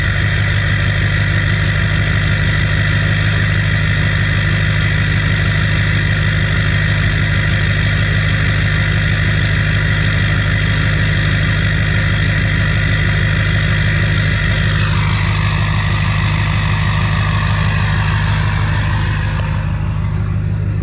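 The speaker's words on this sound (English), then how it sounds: "So let me do a cold start on this damn Duramax right here and let y'all hear that" A Duramax diesel pickup engine idles steadily after a cold start, its deep continuous clatter and rumble close and loud for the whole stretch, with a shift in tone near the end as the idle settles.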